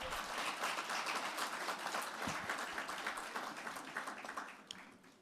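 A Namibian audience at a presentation by a Cameroonian minister bursts into dense, steady applause that holds strong for several seconds, then thins and fades toward the end.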